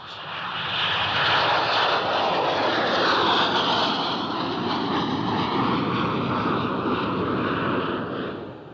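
A Dornier jump jet's engines roar loud and close, a steady broadband jet rumble that swells in the first second, holds strong for several seconds, then eases slightly before tapering at the end.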